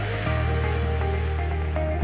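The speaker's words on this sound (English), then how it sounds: "filter the mixture into the different container" Purple red cabbage water is poured and filtered into another container, a steady rushing, splashing pour over a faint constant hum.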